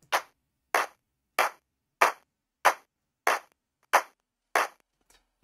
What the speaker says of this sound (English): One being just a 4x4 hand clap that sounds like this